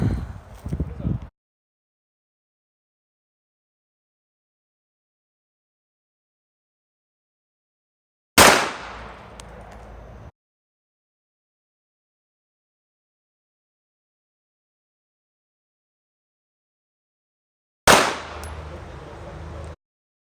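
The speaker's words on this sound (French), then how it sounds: "On va faire un test de tirer à une main, au ralenti, pour voir à quel point les armes vont monter ou pas." Three loud bursts of gunfire from a Kriss Vector and a Glock fired one-handed in a shooting test. Each burst is sharp and sudden with a ringing tail, a short volley at the start and two more spaced about eight seconds apart, with silence between.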